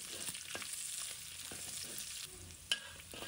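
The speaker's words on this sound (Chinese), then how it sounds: "继续翻炒出香味" Garlic stir-fried in a wok after meat has been browned, a continuous close sizzle with soft scraping strokes of the spatula and one sharp clack near the end, no voices.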